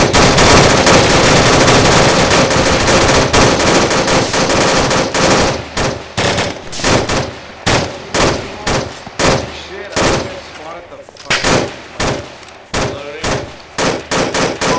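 Sustained machine-gun fire in a combat exercise: a dense continuous roar of rapid shots at first, then breaking into loud, separate bursts and rhythmic volleys.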